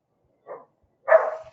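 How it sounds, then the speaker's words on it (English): A small dog lets out two short barks, a faint yip and then a louder, longer bark, close by in a quiet room, with no talk. "The dog's really found her voice, and she's really demanding."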